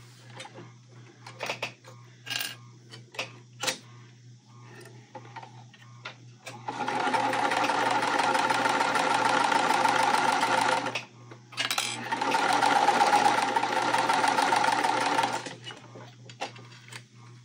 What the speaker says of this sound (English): so we are going to sew these at our 1/4 inch seam allowance